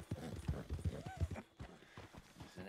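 Horse hooves clip-clopping on a ride in Red Dead Redemption 2, a steady close rhythmic trot of distinct hoof strikes with a faint voice-like tone partway through.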